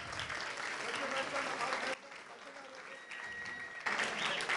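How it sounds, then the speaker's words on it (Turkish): Steady applause from a crowd at a boxing match for boxers Mertcan Bahar and Deli Mine, dense and sustained with a brief dip in the middle, then swelling again. "Alkışlarımız Mertcan Bahar ve Deli Mine için geliyor."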